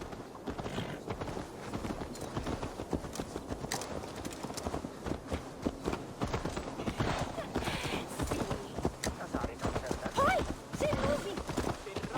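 Steady clip-clop of horse hooves walking at an even pace in the video game Assassin's Creed Valhalla, close and continuous throughout, with a brief snort near the end.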